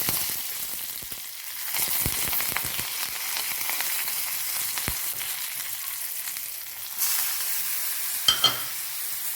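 Asafoetida and curry leaves sizzle and crackle in hot oil, a steady bright frying hiss lasting throughout with a couple of sharp pops near the end and no talking.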